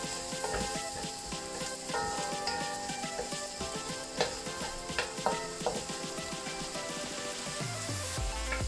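Chicken asado ingredients sautéing in a pan: a continuous close sizzle with scattered clicks and scrapes of stirring utensils against the metal, steady for several seconds.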